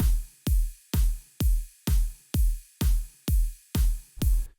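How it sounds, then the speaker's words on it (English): Progressive house drum loop of punchy kick, layered snares and ride cymbals, pulsing in an even beat of about nine hits with bright sustained tops between. "They consist of a kick, a couple of snares,"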